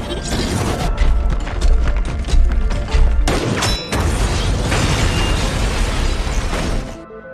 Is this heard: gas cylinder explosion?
yes